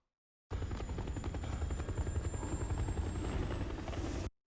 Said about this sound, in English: Do you hear that helicopter in the background?